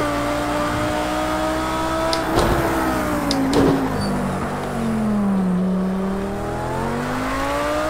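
Renault RS.01 GT3 race car in Project Cars 2, its engine droning steadily with rising and falling revs and gear changes, a sustained close-up mechanical tone.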